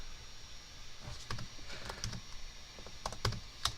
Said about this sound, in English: Very hard typing on a keyboard sideways.